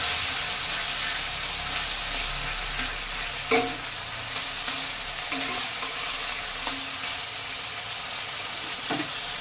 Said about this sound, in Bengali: ওটা খুব সুন্দরভাবে ভাজা হয়ে গেছে, এইবারে কচু পাতা দিয়ে দেবো।